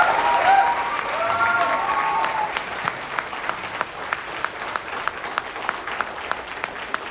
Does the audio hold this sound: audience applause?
yes